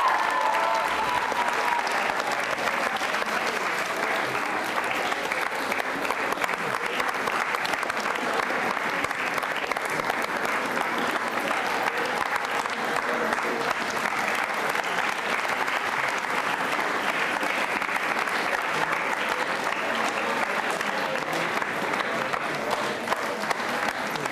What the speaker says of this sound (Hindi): सर आप तालियां जोरों से बजाइए इनके बच्चियों के सम्मान में